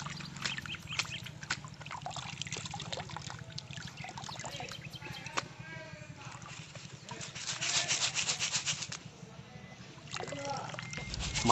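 Coarse, pebbly aquarium gravel sand is scrubbed by hand, giving a continuous close gritty rubbing and grinding with occasional watery sloshes, swelling louder toward the end.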